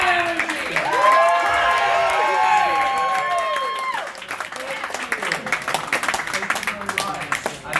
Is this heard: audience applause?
yes